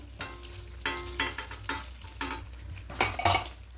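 Rice being added to a pot and stirred in while cooking Gobindobhog-rice kacchi biryani, with a string of scraping, clinking spoon-on-pot strokes in uneven rhythm over a soft sizzle, close by with no talking.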